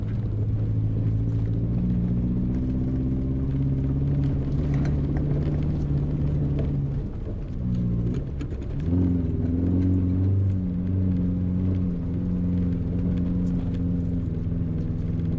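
A Subaru XV with traction control off crawls through mud in first gear, its engine droning steadily and loud throughout, revs dipping briefly midway then climbing again with tyre and drivetrain rumble.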